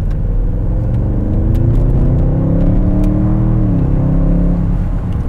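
A 2020 Audi S8 with over 560 horsepower pulls hard from the cabin, a deep rising engine rumble and whir climbing steadily in pitch, loud and continuous with no talking.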